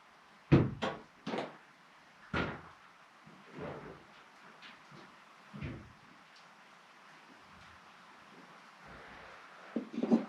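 A small rock dropped down a deep, dusty mine shaft strikes the walls several times as it falls, each knock sharp but fading and more distant, followed by long quiet gaps and a few faint late clatters.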